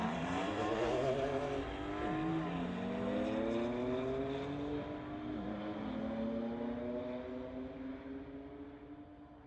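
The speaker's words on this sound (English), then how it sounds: "Shurjit in this 2003 Porsche going against Justin in the 2017 BMW." A 2003 Porsche and a 2017 BMW launch down a drag strip, engines rising through the gears with two clear shift dips, a loud, sustained roar heard from a distance.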